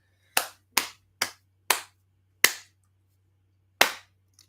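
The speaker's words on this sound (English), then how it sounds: "Can we just give Oregon a slow clap for being this bad?" A slow clap in the stands at the Rose Bowl during a College Football Playoff quarterfinal: six sharp, close, loud claps spaced roughly half a second apart, then a longer pause before the last one.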